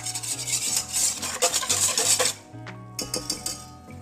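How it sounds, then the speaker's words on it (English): Pepper and salt being whisked into a milk mixture in a bowl for a seafood mac and cheese: rapid metallic whisk scraping and clinking, close and busy, easing briefly near the end, with no voices. "we're going to whisk that together"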